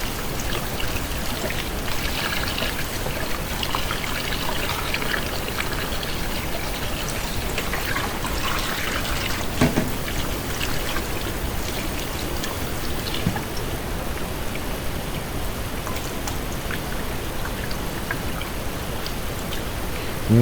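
Tap water runs steadily over raw pork chops as they are rinsed, a continuous close splashing hiss lasting the whole stretch without pause, no voices.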